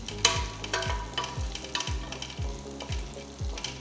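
Garlic cloves, ginger pieces and cumin seeds fry in oil in a pan, a steady sizzle broken by roughly seven regular scraping stirs of a spoon, close and moderately loud with no talking.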